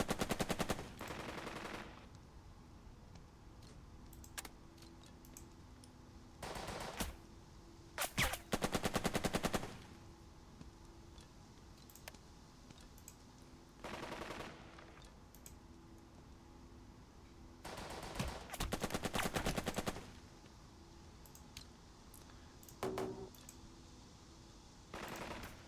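Gunfire from the wargame Burden of Command comes in several loud machine-gun bursts of varying length, separated by quieter stretches with occasional single shots, and no voices.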